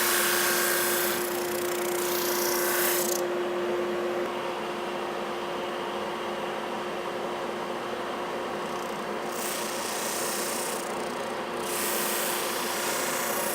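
A Supermax 16-32 drum sander runs with a steady, loud mechanical hum and broadband whir. The tone shifts slightly a few seconds in, then holds evenly with no voices.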